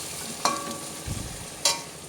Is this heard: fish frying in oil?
yes